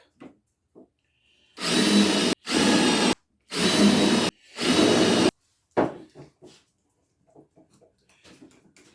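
A power drill countersinks holes in wood for a tiered garden planter, four loud close bursts of whirring about a second each separated by short pauses, followed by quieter clicks and handling knocks.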